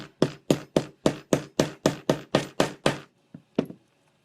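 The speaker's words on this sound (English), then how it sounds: "turn it in sort of a circle as you're hammering down" A hammer strikes a rivet on a leather choker in a steady run of about eleven sharp, close taps, then pauses before two lighter final hits, with no one talking.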